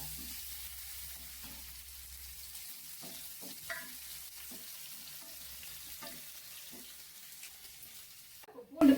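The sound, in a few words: garlic frying in oil in a pan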